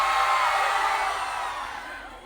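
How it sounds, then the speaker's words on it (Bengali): A student crowd at a festival shouts as loudly as it can, a massed roar of yelling voices that peaks at the start and then slowly tapers off. "এবার তোমরা কত জোরে চিল্লাইতে পারো দেখি তো,"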